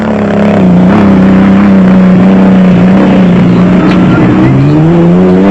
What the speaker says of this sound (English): The Kopanong Jimco of Weir Smith and Minute was sounding decidedly slick, with the expensive engine and gearbox on the verge of giving up the ghost